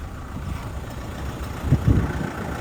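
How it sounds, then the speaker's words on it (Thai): A steady low diesel engine idling nearby in a 2010 Toyota Vigo Smart Cab pickup, 2.5-litre, rumbling evenly with a couple of slightly louder pulses partway through. "มาฟังเสียงเครื่องยนต์ก ันเลยนะครับสำหรับ t o y ต้าวีโก้สมาร์ทแคคันนี้"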